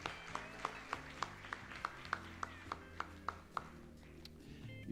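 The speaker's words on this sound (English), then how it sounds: "People, let's not get tired for clapping for our gold sponsor." Conference audience at an insurance brokers association event in Mbarara, Uganda, clapping in a steady unison beat, roughly two claps per second, moderately distant over a sustained musical backdrop.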